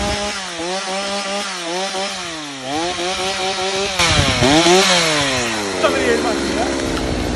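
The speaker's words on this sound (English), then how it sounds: "operating the chainsaw" A chainsaw cutting trees, its engine snarling close and loud, rising and falling in pitch as the throttle revs and the chain bites into the wood.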